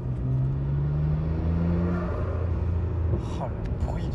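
A Nissan GT-R R34's turbos hum and whir with the engine's steady low rumble, heard from inside the car, with a rising whine at times and people talking over it.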